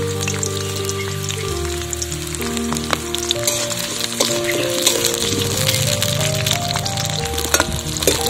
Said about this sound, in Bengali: আমি এখানে 2টো পেঁয়াজ নিয়েছি, আর নিয়েছি 2টো গোটা রসুন, আর 5টা কাঁচা লঙ্কা। এগুলোকে হালকা করে ভেজে তুলে নেব।